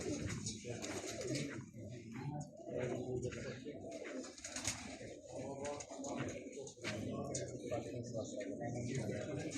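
Domestic pigeons coo at a pigeon club in Xırdalan, with low, rolling coos repeating nearly nonstop close by, while people talk over them throughout.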